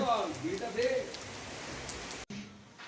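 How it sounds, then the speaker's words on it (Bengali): Rain falls at night in Cherrapunji, Meghalaya, a steady soft hiss of drops heard under a voice speaking near the start, then cut off abruptly just before the end. "এখন চেরাপুঞ্জিতে বৃষ্টি হচ্ছে।"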